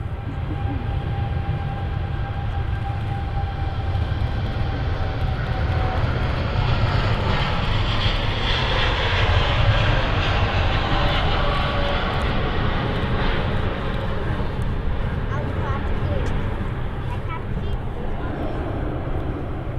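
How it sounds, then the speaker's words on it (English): An Emirates Airbus A380 in special livery taxis at Manchester Airport, giving a continuous loud jet engine rumble with whining tones that swells slightly midway, while someone talks over it. "the Emirates A380 Special on the taxi out as well"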